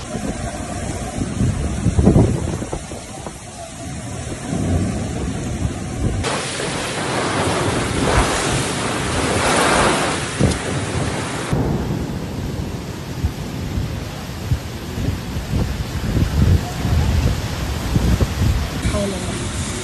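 Heavy hailstorm in Yanbu, Saudi Arabia, with dense hail and rain pounding steadily, gusts of wind buffeting the microphone and rumbling thunder, loud and close throughout, with a voice speaking faintly beneath the storm.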